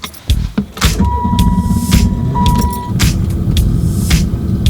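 A Pontiac Turbo Grand Prix with just over 70,000 miles, its battery run down from sitting, cranks with a starter whine and catches, then settles into a loud, steady idle with a few clunks and clicks nearby.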